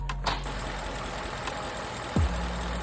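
A Ford F-150 with the 5.0 engine runs with a misfire: a steady low idle rumble with irregular stumbles and a brief sharper knock near the end.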